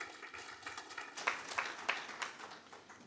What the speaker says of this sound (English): A round of applause for our next speaker.